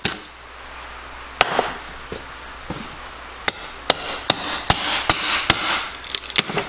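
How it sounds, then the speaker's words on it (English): Hammer blows knocking pieces of wood out from around a window frame, starting as a few scattered knocks and then becoming a steady run of sharp, close strikes about every half second. "take these pieces of wood out piece by piece"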